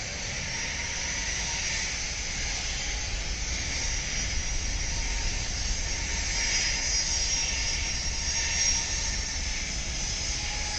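Southwest Airlines airliner in flight, heard as a steady, loud broadband engine roar and hiss with a faint whine above it, unbroken for the whole stretch and with no voices.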